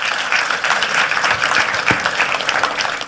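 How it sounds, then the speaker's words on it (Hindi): An audience breaks into dense, sustained applause, many hands clapping loudly and evenly for a few seconds with no talk over it. "उनके लिए तालियां बजनी चाहिए"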